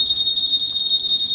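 Keyless alarm buzzer on a Yamaha MX King motorcycle emitting a steady, loud, high-pitched continuous tone, close and alone with no talking.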